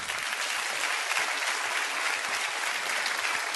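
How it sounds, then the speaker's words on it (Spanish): An audience at an Argentine comedy stage show gives loud, dense applause that holds steady and unbroken throughout, with no voices over it. "No tengo más que darle un aplauso a Domingo Faustino Sarmiento porque se lo merece."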